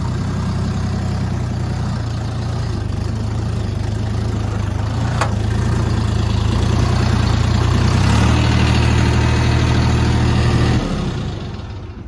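A DTZ 5354 tractor engine runs steadily at a low, heavy idle-like drone while the tractor turns on full lock over uneven ground, then the sound fades as the engine note drops near the end.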